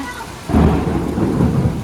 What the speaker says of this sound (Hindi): कितना जोर का कड़ाका हो रहा है।